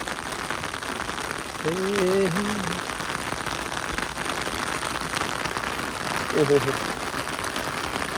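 Continuous rain patters steadily on a surface, while a voice briefly sings over it twice.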